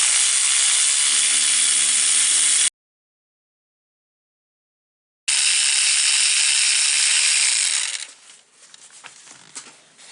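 A ratchet wrench backs out exhaust manifold bolts on a 2007-2011 Jeep Wrangler JK with the 3.8L engine: close, dense rapid clicking in two bursts separated by silence, with lighter scattered clicks and handling sounds trailing at the end.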